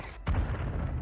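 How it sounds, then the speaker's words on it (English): Mortar strike in Warzone Mobile lands as a single muffled boom with a low rumbling tail, following a quieter stretch of game ambience. "Okay, mortar strike."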